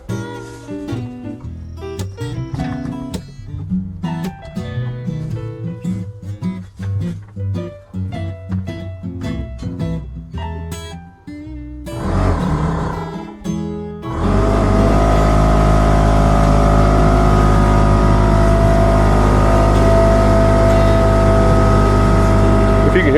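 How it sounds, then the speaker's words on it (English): An air compressor in a home garage starts up and runs loud and steady, a continuous drone with a low hum, following a stretch of clattering workshop noise. "If you can hear that, I'm fired up my compressor"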